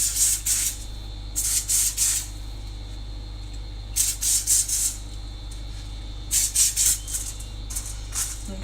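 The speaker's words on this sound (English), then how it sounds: "Now, I need this shit to spray over the foil." Aerosol spray can spritzing over foil for potato wedges, four short bursts of hiss about two seconds apart, each a quick double or triple puff, over a low steady hum.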